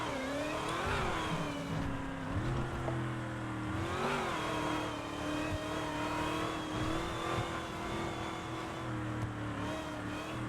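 A test car's engine revs up and down repeatedly, with rising and falling pitch sweeps over a constant, fairly close mechanical drone.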